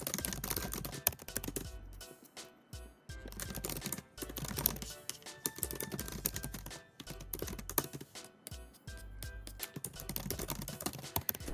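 Steady, fast typing on a computer keyboard, with dense clicking keystrokes broken by a few short pauses, close and fairly quiet with no talking.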